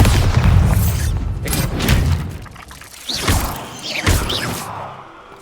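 Bombarda blasting-spell explosions in Hogwarts Legacy: several loud booming blasts with whooshes and shattering debris, spaced roughly a second apart, close and heavy, with no talk.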